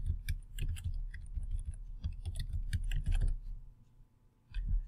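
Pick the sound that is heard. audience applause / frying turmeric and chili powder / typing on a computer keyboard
typing on a computer keyboard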